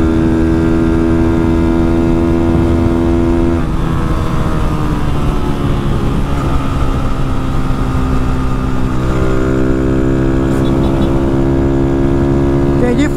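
A modified Fan 160 motorcycle with a Mini Fortuna exhaust runs loud and close, its pitch dropping and climbing again as the rider shifts, with speech underneath.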